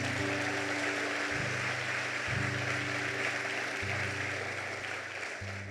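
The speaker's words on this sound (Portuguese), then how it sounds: "Pode dar sua aplauso para Jesus." A church congregation applauds during a Portuguese-language sermon, soft continuous clapping heard beneath loud sustained keyboard chords that shift every second or so.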